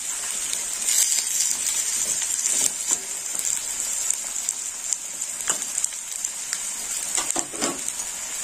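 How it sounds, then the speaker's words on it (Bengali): Potato pieces fry in hot oil, giving a steady bright sizzle and hiss with scattered sharper crackles and pops throughout, close and continuous with no voices. "একটু লাল লাল করে ভেজে নেব।"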